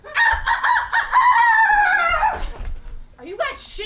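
A live improv comedy performer imitates a rooster with his voice, giving a long, loud crowing call followed by a few short clucks, close and dominant, with faint audience noise behind.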